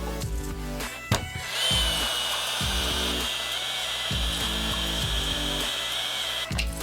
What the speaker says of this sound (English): we're going to use a heat gun to heat that up, and we'll shrink down that wire cover